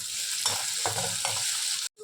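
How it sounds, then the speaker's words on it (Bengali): Chopped onion, green chili and garlic fry in a pan with a loud, continuous sizzle, broken by a few scraping stirs, before the sound cuts off briefly near the end. "এখন একটু কাঁচা লঙ্কা কুচানো দিয়ে দিলাম আর রসুন কুচানো দিয়ে দিলাম। একটু ভেজে নেব।"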